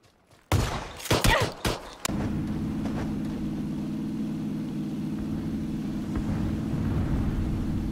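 Gunfire in the PUBG battle royale game: a rapid cluster of loud sharp shots in the first couple of seconds, then a steady low engine-like rumble that drones on to the end, with no talking.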